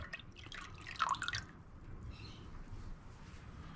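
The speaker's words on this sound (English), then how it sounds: "I'm going to add a 1/4 cup of light soy sauce and a 1/4 cup of Chinese cooking wine" Light soy sauce and Chinese cooking wine poured into a soup pot give a short splashy, dripping burst about a second in, then fade into a quiet, low kitchen hum with no talking.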